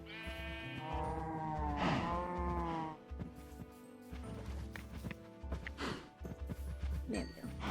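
Cows mooing in Minecraft, the game's livestock calls rising in drawn-out tonal bleats over a steady bed of game music, with a few clip-clop-like steps and soft clicks later on.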